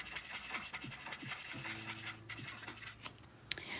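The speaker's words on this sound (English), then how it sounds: "I'm just scrubbing." Colored pencil scrubs on paper during coloring, giving soft, close back-and-forth scratchy rubbing strokes in a quiet room, with a couple of faint clicks near the end.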